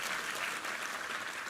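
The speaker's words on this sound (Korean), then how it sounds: "우리 하나님께 감사 영광의 박수 올려드리겠습니다." A congregation claps during a Sunday church service, a short burst of dense, even applause heard at moderate distance.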